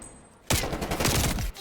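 After a quiet moment, a sudden burst of rapid automatic rifle fire erupts in Call of Duty: Cold War multiplayer, loud and close for about a second before cutting off.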